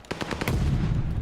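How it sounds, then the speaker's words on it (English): Rapid bursts of automatic gunfire crackle in a Call of Duty League esports match at the Toronto Ultra Major, sharp shots in the first half-second giving way to a dense, rumbling wash of distant fire. "Prattling of gunfire all around him as well"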